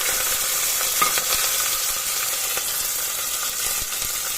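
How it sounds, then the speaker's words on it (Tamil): Onion, garlic, green chillies and curry leaves sizzle in hot oil with popping mustard seeds, a steady loud frying hiss with small crackles and occasional stirring scrapes, close and without talk. "எல்லாத்தையும் சேர்த்து இப்போ வதக்கணும்."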